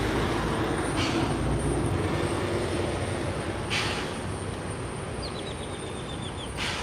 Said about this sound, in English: Here comes the nitrogen truck.